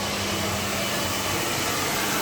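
A hair dryer blows in a loud, steady, close rush of air that stays unbroken throughout, with no talking over it.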